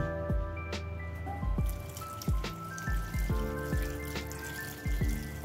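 Three to four cups of water poured into a pot while making shami kebab, heard as a run of separate splashes and drips striking the pot at irregular intervals, close and fairly quiet, with no voices.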